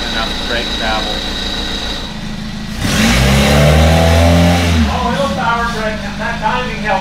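A car engine, fresh from a timing adjustment on a long-dormant vehicle back on the road, idles and then revs up loudly for a couple of seconds before settling back, with voices talking around it.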